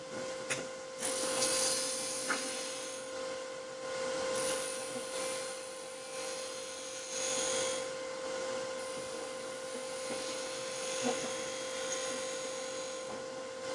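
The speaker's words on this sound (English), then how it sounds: "this is where being able to roll a bead with the gouge." Wood lathe spinning a spindle while a gouge rolls a bead, a steady whirring hum with a sustained tone and scraping, rasping cutting noise rising and falling throughout, fairly close, no voices.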